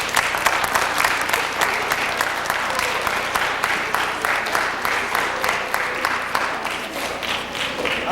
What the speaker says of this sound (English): Let's receive him with a big hand of applause.